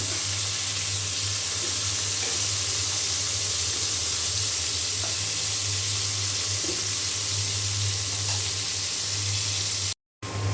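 Fish sizzles as it fries in hot oil in a home kitchen, a steady continuous hiss and crackle held at an even level throughout, close by.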